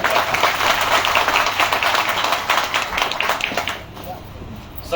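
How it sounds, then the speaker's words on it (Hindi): Audience applause welcoming party leaders at a Nishad Party meeting in the district panchayat hall in Maharajganj, a dense wash of clapping for about four seconds that thins and fades near the end. "एक बार जोरदार तालियों से स्वागत करूंगा"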